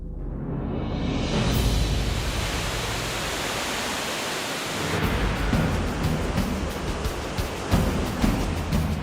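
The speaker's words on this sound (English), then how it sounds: "This is Dettifoss waterfall. It's the largest waterfall in all of Iceland." A deep, constant roar of rushing water from Dettifoss, Iceland's largest waterfall, broad and powerful, with a gusty rumble shifting partway through.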